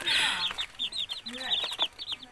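Chicks cheep in rapid high chirps close by, with a hen's low clucks woven underneath.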